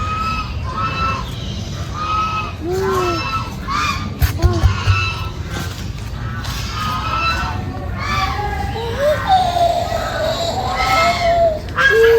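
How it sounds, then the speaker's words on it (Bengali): Geese honk harshly and repeatedly at Kathgola Garden in Murshidabad, over a noisy outdoor backdrop of crowd chatter and children's voices. "এখানে আমরা রাজহাঁস দেখতে পাচ্ছি সাউন্ড করছে"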